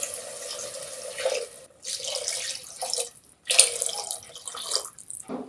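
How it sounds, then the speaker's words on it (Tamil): Water poured into a cooking pot for jackfruit biryani, a steady splashing stream with brief pauses between pours, close and fairly loud, with no voices. "அதனால் நான் 3 டம்ளர் அளவுக்கு தண்ணி விடுறேன்."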